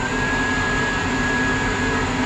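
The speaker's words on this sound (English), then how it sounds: "there's a dryer." Steady, unbroken whoosh of a hand dryer running inside the toilet of a Trenitalia Rock train, close and constant throughout with no voices.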